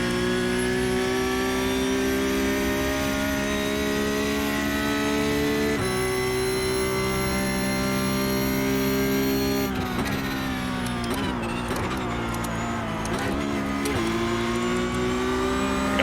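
A Porsche Cup car in the iRacing video game at Monza, engine droning loud and steady at high revs, then dropping and rising through quick downshifts with stuttering blips before climbing again.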